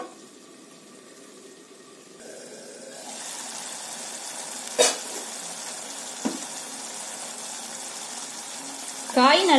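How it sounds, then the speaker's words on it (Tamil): Bottle gourd pieces sautéing in a pan make a low hiss that swells into a steady sizzle after a quieter start, broken by a few sharp clinks and a louder burst at the end. "காய் 2 நிமிஷம் நல்லா வதங்கட்டும்"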